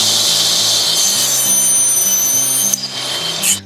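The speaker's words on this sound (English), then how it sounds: "to do a simple miter cut just to test again what this rip blade does" A table saw fitted with a rip blade makes a miter cut through a piece of Tasmanian oak on a homemade miter sled, a loud, steady, high whine running a few seconds before a brief knock and a shift in pitch as the cut finishes.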